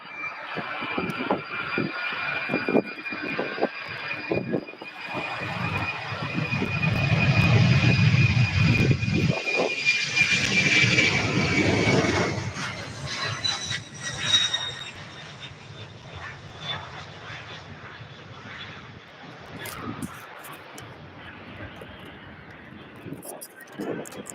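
At Louisville airport, a departing airliner's jet engine builds to a loud rushing roar with a high whine, then fades into the distance, while a person talks and handles things nearby.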